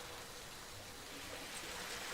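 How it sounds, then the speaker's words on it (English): Steady heavy rain in the film The House That Jack Built makes a dense, even hiss of falling water with no breaks and no voices. "The great rain."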